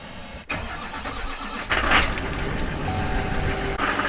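A truck's engine turns over and catches, then settles into a steady running rumble as the vehicle begins to move down a rural driveway near a woodshed, fairly close, with no voices.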